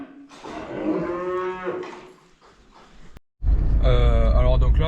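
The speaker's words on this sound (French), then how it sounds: "Donc là on a fait passer les vaches et les gasconnes et les aubracs de l'autre côté." Gascon and Aubrac cattle being moved between fields on a farm moo loudly and close by, with one long call, then after a brief gap another strong bellow, alongside a voice.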